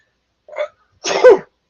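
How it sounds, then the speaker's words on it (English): One big human sneeze, close and loud, with a short inhale followed by a forceful burst. "Whew, I had to sneeze. Boy, that was a big one."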